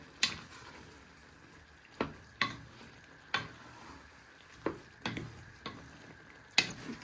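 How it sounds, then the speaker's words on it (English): Paella stirred with a wooden spoon in the pan, the spoon knocking and scraping in evenly spaced strokes about once a second over a faint, quiet sizzle. "You're going to get your wooden spoon and just give that a little stir."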